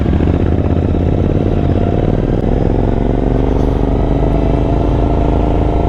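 A Royal Enfield GT Continental motorcycle engine idles steadily up close, a loud continuous rumble with fine mechanical clatter and no voices.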